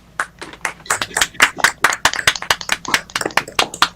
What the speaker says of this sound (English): let's give a big round of applause for our guest for today, John Wing